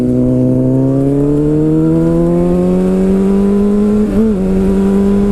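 A used Honda CBR600RR sport bike ridden on the road: a loud, close engine drone climbing steadily in pitch under acceleration, with a brief dip and wobble near the end before it pulls on.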